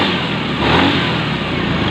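A Honda Beat fuel-injected scooter engine revs up steadily and loudly nearby, a continuous droning roar with no pauses.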